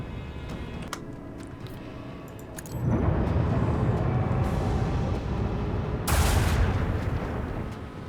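Gunfire attack on a turret in Rogue Trader: after a few quiet ticks, a loud sustained burst of fire starts about a third of the way in, then swells again with a sharp crack near the end.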